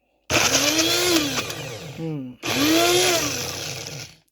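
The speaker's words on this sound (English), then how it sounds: "I'm just going to put this in my little blender and blend it up and then add the yogurt." A small kitchen blender whirs loudly while pureeing peaches, running in two bursts separated by a brief pause, with the motor pitch dipping and rising as the fruit churns.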